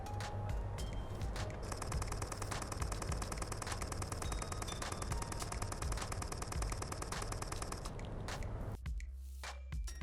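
A Nikon Z50II mirrorless camera fires a continuous burst at 11 frames per second, a rapid steady run of shutter clicks lasting about eight seconds before stopping abruptly, close to the microphone.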